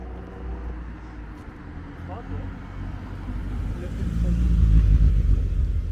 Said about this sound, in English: It's a really fast car.